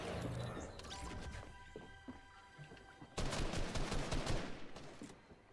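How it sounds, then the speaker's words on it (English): Rapid pump shotgun blasts and heavy gunfire crack through a Fortnite battle, a dense volley of sharp repeated shots that grows louder partway through, with no talk over it. "Can't miss that pump shot."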